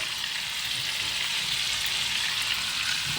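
Onions fry in a pan with rice, vegetables and ribs cooking, giving a steady, close, bright sizzle that holds evenly throughout, with no talk over it.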